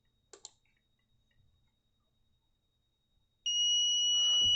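A few faint clicks, then a steady, piercing high-pitched electronic tone from an active buzzer on a circuit board starts suddenly and rings on continuously.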